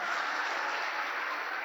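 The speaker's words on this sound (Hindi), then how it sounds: "एक बार जोरदार तालियों के साथ।" At a college event in Bihar, a large crowd applauds steadily, a dense, even wash of clapping heard from a distance at moderate volume, with no voices over it.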